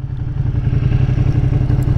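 A 2020 Ducati Panigale V2 motorcycle engine runs with a loud, steady, throbbing mid-range drone heard close up, with no one speaking.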